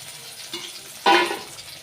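Raw plantain slices sizzle in hot oil, a soft frying hiss punctuated by a sharp burst of crackling as more slices drop into the pan.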